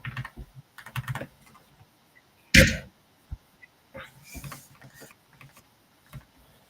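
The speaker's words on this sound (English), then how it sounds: "He just hit the keyboard." A child bangs on a computer keyboard, giving scattered clicks and clacks with one loud smash midway, followed by a few more taps and faint background voices.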